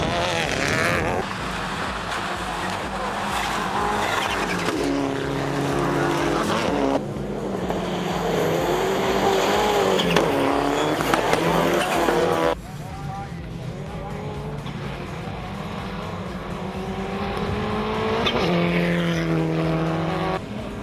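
Race cars, including a Mitsubishi Evolution, roar past on a track in a race, with engines whining and shifting pitch as they pass, loud and continuous throughout.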